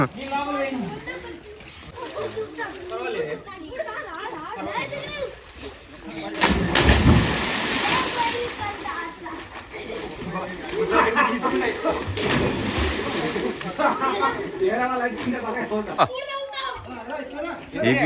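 Children learning to swim splash in water during summer, with scattered splashes and sloshing mixed into near-constant chatter and voices throughout.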